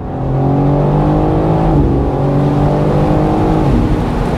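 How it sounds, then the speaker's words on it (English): A car engine roars nearby as it downshifts, revs briefly rising and falling, with a rasping exhaust note from the rear. "you get that noise from the rear of the car, from the exits of the exhaust"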